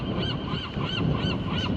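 Gulls calling on Alcatraz Island in San Francisco Bay, a busy colony of repeated honking, squawking cries from several birds close by, continuous over a steady outdoor background.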